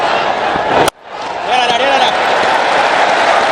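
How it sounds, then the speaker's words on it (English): Cricket fans applauding in the stands at the Asia Cup 2025 final between India and Pakistan, a steady broad wash of crowd clapping and cheering under a commentator's voice, briefly cut off by a sharp break before swelling back. "They're applauding every single."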